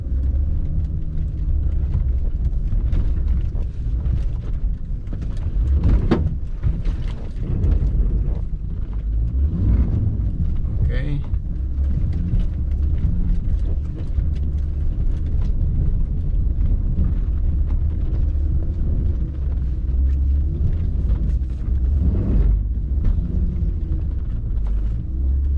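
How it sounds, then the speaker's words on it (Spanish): Honda Ridgeline with the VTM-4 system braking a slipping wheel: a steady, loud low rumble of the truck's drivetrain and tires, with brief surges and scraping bursts, and no talking. "En cuanto una de las llantas empieza a perder tracción o empieza a patinar, además el sistema la trata de frenar."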